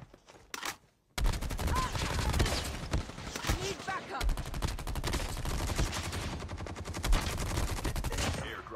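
Rapid automatic gunfire in Call of Duty Mobile, dense bursts of loud shots rattling almost continuously after a brief opening pop, with a voice talking over the shooting.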